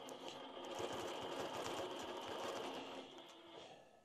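Quilting machine stitching steadily on a quilt, a close, continuous mechanical whir with rapid rhythmic ticking that runs for about four seconds, easing slightly toward the end.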